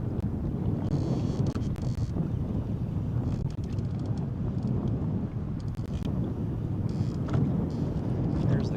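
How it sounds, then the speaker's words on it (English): Wind gusting across a lake during bass fishing, a continuous rough buffeting rush on the microphone that stays loud throughout with no clear voices. "Wind just kind of messes with you."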